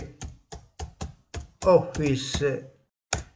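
Typing on a computer keyboard to enter a search in a web browser: a run of evenly spaced, distinct key taps, a brief burst of faster clicking, then one last tap, all close and clear.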